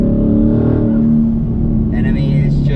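A 2020 twin-turbo Mustang accelerating under boost, its engine a loud, close, rising drone with a faint turbo whistle entering late; no one talks over it.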